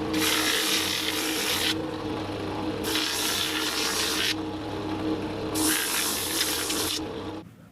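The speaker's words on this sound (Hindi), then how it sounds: "फिर इसको उल्टा करके अंदर का भी पूरा हिस्सा ग्राइंडर किया जाता है" Grinder working the sole of a handmade Kolhapuri leather chappal, a loud steady hissing grind that swells and eases in three long passes, close and with no talk.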